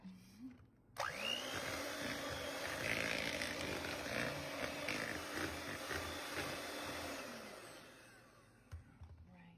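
An electric mixer whirs steadily through cheesecake batter after an egg is dropped in, starting abruptly and running loud and close for several seconds before trailing off, with no talking.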